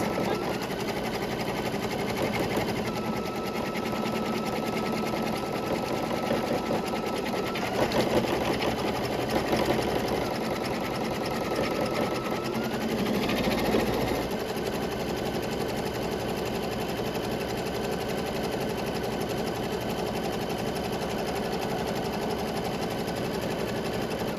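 Brother embroidery machine stitching a seam down the middle to join two pieces of felt, a steady rapid mechanical whir with a few brief pauses and shifts in pace, close and alone.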